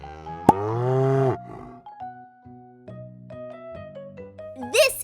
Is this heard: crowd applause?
no